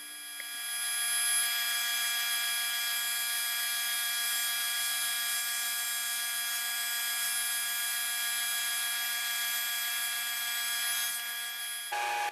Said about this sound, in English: I'm just going to quickly resaw them on the table saw